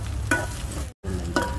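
Onions with ginger-garlic paste fry in a pan over a wood-fired stove, a steady close sizzle with two brief stirring scrapes and a momentary dropout of sound midway.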